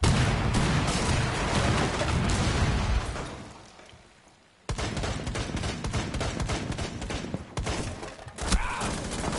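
Gunfire in Rainbow Six Siege: dense, loud rapid bursts of automatic shots. The shooting fades briefly to near quiet, then resumes abruptly and continues in sharp clustered volleys.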